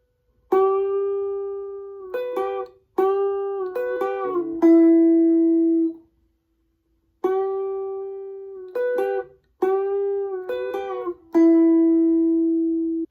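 Electric guitar playing part of the solo from a song, clean sustained notes in phrases with bends and vibrato, two groups separated by a short pause, close and loud with no talking.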